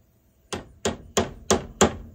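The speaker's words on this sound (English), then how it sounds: "Haven't used my old hammer in a while. Y'all like my Bodock hammer?" A split old bodock wood hammer tapping a ramrod for a .36 flintlock, five sharp evenly spaced wooden knocks close up, each with a short ringing tail and nothing else heard.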